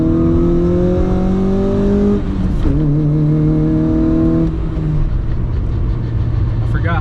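Engine of a GD3 Honda Fit revving up and down through gear changes while driving, steady and close inside the cabin, with someone talking over it at times.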